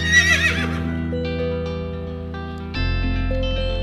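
A horse whinnies once, loud and near, in a high quavering call at the start, followed by sustained musical tones from a children's phonics song.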